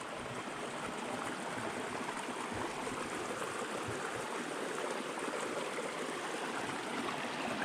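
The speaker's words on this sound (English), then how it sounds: "Nice to see some water in the stream." A shallow stream flows through a narrow rocky gorge, giving a steady, close rushing and trickling wash that holds even for the whole stretch, with no voices.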